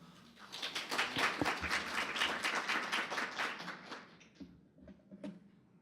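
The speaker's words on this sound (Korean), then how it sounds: "큰 박수 청해 주시기 바랍니다." Applause from the audience at a technology presentation on machine-learning automation software, clapping that builds quickly, holds for a few seconds and then tapers off into a few scattered claps.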